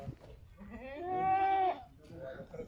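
A goat bleats once in a long, wavering cry, close and fairly loud, with a brief shorter bleat or voice afterward.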